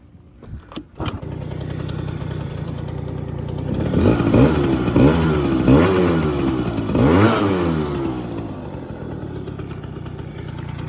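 A scooter engine is kicked over with a few clattery attempts, catches, and settles into a steady running note with several rising and falling revs, loud and close, with no talk.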